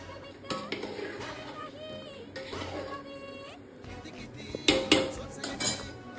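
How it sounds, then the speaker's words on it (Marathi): Metal cookware clatters while rice and chicken biryani cooks, with clinks of utensils and a pot lid set onto the cooking pot, several sharp metallic knocks over steady kitchen background and faint talk. "थोडं शिजवेपर्यंत झाकण लावून घेते मी."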